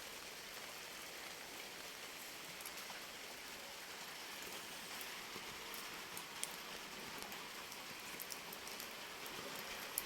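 Light rain patters steadily and softly, a gentle continuous hiss of drops with no voices.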